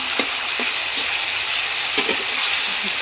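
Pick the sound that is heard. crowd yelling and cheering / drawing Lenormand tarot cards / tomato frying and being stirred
tomato frying and being stirred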